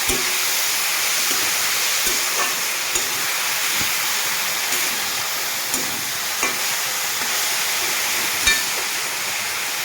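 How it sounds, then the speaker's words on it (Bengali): Cabbage with turmeric, salt and whole slit green chillies is stirred in a pan, giving a steady sizzling hiss with occasional light scrapes and taps of the spoon, no voices. "হলুদ গুঁড়ো নুন গোটা চেরা কাঁচা লঙ্কা তো নাড়িয়ে চলে নেব"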